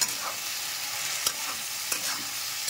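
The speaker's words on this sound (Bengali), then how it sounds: "1 টেবিল স্পুন মতো লঙ্কা নুন দিয়ে এটাকে আমি ভাজা ভাজা করব" A pan of food sizzles steadily as it is stirred and fried with turmeric, chili and salt, with a couple of sharp scrapes of a spatula against the pan and no voices.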